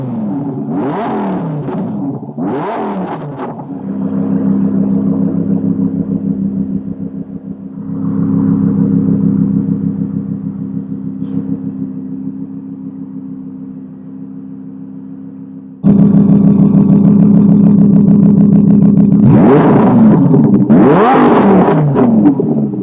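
A Lamborghini Huracan engine revving inside the car, deep throaty blips at the start, a long steady drone that shifts in pitch, then a louder surge ending in two sharp roaring revs.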